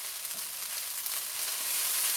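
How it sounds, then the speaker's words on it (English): Ground walnuts, browned onions and browned rice stirred together in a pan for stuffed cabbage rolls, giving a soft steady sizzle with faint scraping, quiet and alone with no talking. "I'm just going to mix in all those lovely ground walnuts in with my brown onions and now my browned rice"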